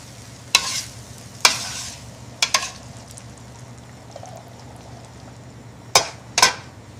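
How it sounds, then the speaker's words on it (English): Jollof rice sizzling and frying in a pan, a steady low crackle broken by several sharp stirring scrapes and clatters, near and moderately loud, with no voices. "jollof rice sizzling with perfectly charred edges"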